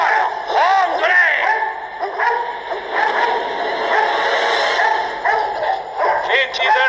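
Several dogs bark and yip in quick, overlapping bursts, fairly close and loud, with whimpering tones mixed in over a steady noisy background.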